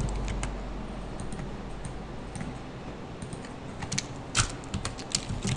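Text being typed in Photoshop on a computer keyboard, a run of soft, close keystroke clicks that grows denser and louder toward the end, with no talking.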